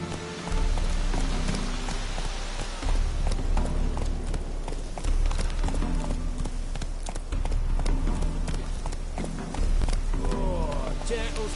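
Hooves of a horse galloping in The Witcher video game, a steady clip-clop rhythm that runs throughout at close range under a dense layer of game music and ambience, with a brief lull around the middle.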